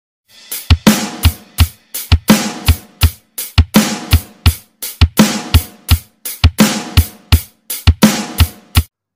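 A real acoustic drum kit plays a slow, steady groove with no music, each bar built from six strokes. Punchy, loud kick and snare hits repeat close-up and evenly, with no other sound.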